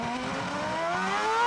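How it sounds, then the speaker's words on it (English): A Ferrari Formula 1 engine at the Monaco Grand Prix whines with a rising pitch as it accelerates, its buzzing tone climbing steadily and growing slightly louder over a wash of background noise. "Listening to the Ferrari engine."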